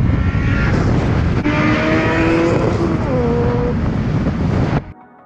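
A Honda CRX engine runs loud and close, a steady droning hum with rising and falling whine tones, then cuts off abruptly near the end.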